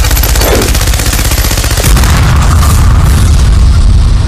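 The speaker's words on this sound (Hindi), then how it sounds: "गोलियां चलाई जा रही थी" Loud rapid bursts of gunfire crackle in quick succession, dense and harsh, with a heavier boom partway through before the shots trail off.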